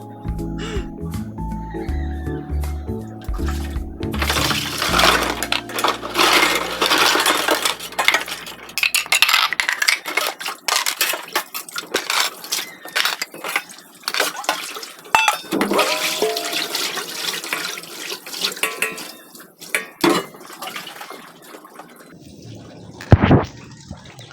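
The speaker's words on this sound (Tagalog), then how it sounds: "magugas muna ako" Running water pours steadily while dishes are washed, with frequent clinks and clatters of plates and utensils, close by and fairly loud, ending with a few sharper knocks.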